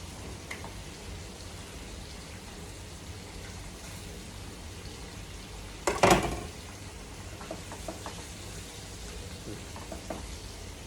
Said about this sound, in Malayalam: അപ്പം നമ്മൾ മീനിവിടെ പൊരിക്കാൻ ഇട്ടേക്കുന്നു